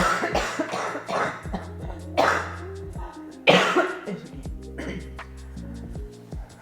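A patient coughs harshly and repeatedly in several bursts during a general practitioner's examination, close by, with tonal humming or throat sounds between them and a faint steady ticking.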